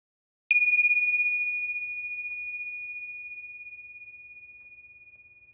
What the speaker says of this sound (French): écoutons ensemble le son de cette cloche